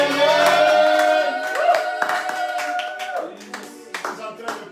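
A church congregation breaks into applause during a service, a burst of clapping hands mixed with sustained tonal music or voices that fades over several seconds.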